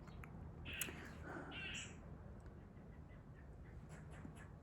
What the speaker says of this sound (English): Lots of birds out here.